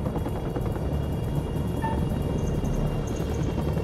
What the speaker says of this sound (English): I got a helicopter coming in.